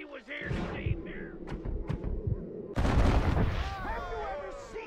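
Gunshots crack in the Western game Red Dead Redemption as a thrown hat is shot from the sky: a few thumping shots, then a louder cluster of blasts, with voices talking in between.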